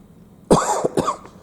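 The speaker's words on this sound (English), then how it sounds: "Sorry about the cough" A single close, sharp cough in two quick bursts, breaking a near-silent background.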